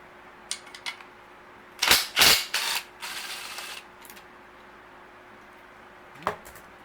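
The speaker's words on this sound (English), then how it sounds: "Undo this little bolt here." A small bolt on a Nissan 6hp outboard is undone with a ratchet, giving a few quick clicks, then a burst of ratcheting bursts and a scrape, close and moderately loud, with a final click.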